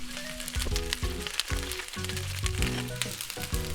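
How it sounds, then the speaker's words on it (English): Boiled konnyaku grilling in a pan over medium heat, a steady close sizzle with scattered crackles and pops throughout, loud and continuous with no talking. "So here you want to grill both sides with medium heat for about 3 to 5 minutes on each side."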